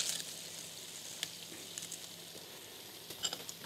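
Onion browning in a frying pan for Andalusian pickled sardines, a quiet, steady sizzle with scattered soft crackles and pops close by, no talking.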